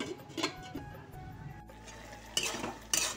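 A lid is set onto a cooking pot of simmering vegetable stems, giving two quick metallic clinks near the end over a low kitchen background.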